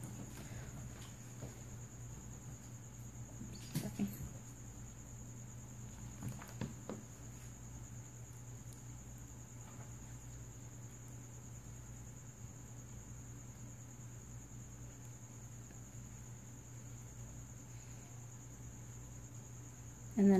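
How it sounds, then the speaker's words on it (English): Steady high-pitched crickets chirping outdoors run continuously under a low hum, with a few faint soft knocks and taps. "Sorry if you hear crickets in the background and everything."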